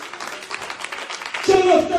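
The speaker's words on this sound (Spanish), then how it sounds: "Denle un aplauso al Rey de la Gloria" Congregation applause in a church service, a soft wash of clapping that gives way to a voice and a tonal sound near the end.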